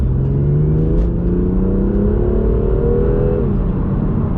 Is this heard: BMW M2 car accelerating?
yes